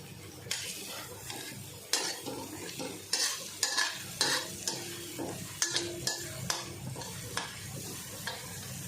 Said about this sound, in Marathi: भाजून घ्यायची व्यवस्थित म्हणजे त्याचा उग्रसपणा जाईपर्यंत